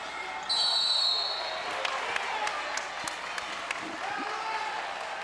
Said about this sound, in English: Quite a response from the North Penn crowd.